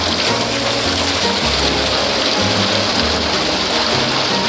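Loud, steady rush of gushing water with a continuous mechanical churn underneath from a used water pump under test, dense and unbroken throughout.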